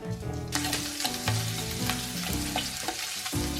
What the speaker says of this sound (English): Put the shrimp into the pan. Stir fry until the shrimp becomes pink.